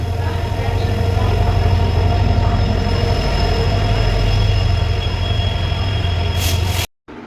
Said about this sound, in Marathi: मग फायनली आमची ट्रेन आली